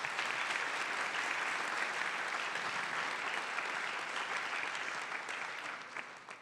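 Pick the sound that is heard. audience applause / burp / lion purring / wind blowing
audience applause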